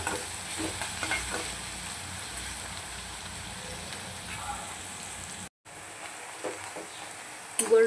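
Onions, with a pinch of salt added, frying and being stirred in a pan for mutton Bihari curry: a steady crackling sizzle with scraping stirs throughout, broken by a brief silence near the end.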